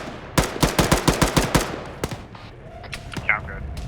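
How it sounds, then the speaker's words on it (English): Gunfire in the video game Arma 3: a rapid burst of about eight automatic shots, then a few scattered single shots further off, with faint game ambience underneath. "We're getting shot in the ass."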